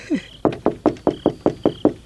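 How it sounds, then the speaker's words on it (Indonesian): Someone knocking on a bedroom door: eight sharp, evenly spaced knocks in a quick steady rhythm, close and clear, with no talk over them. "Biar aku ketuk saja pintu kamar ini."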